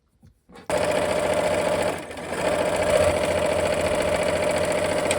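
A sewing machine stitching quilt pieces of half-square triangles starts abruptly and runs in a loud, steady mechanical whir, dipping briefly before resuming at a constant pace, close and alone.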